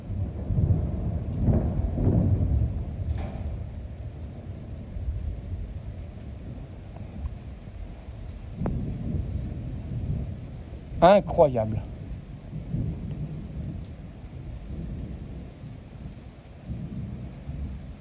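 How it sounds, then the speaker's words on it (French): A violent supercell thunderstorm over Clermont-Ferrand in Auvergne: steady rain and low rumbling thunder, with a sharp crackling strike near the middle, while people talk excitedly throughout. "C'était des orages à foudre, hein, ça se voyait au radar."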